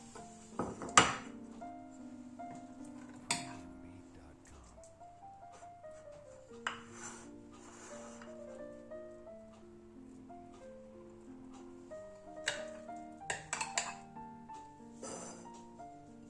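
Hummus spooned into small clay güveç dishes, with sparse soft clinks and scrapes of a spoon against clay scattered through a quiet kitchen, a few sharper taps standing out.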